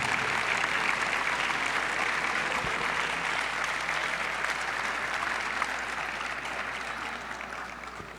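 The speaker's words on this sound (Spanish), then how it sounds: "Despidamos como se merece a la magistrada, por favor, con un fuerte aplauso" An audience applauds a departing female magistrate at the close of a conference talk, a steady, dense wash of clapping sustained for about eight seconds and tapering slightly toward the end, with no speech over it.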